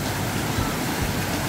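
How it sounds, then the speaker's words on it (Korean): Rushing water from a waterfall and stream in a rocky mountain valley at Neunggang Valley, Jecheon, North Chungcheong; a steady, dense broadband roar fills the whole clip without pause. "저 위에 다리 바로 밑에서 저기 폭포가 있어"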